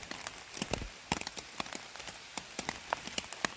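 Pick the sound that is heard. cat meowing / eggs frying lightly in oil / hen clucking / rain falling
rain falling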